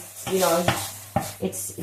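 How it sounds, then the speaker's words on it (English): Food frying in a pan with the flame turned up sizzles close by, with short scraping stirs and clatters over a short stretch. "I'm just going to increase the flame a little bit so that it sizzles a little bit"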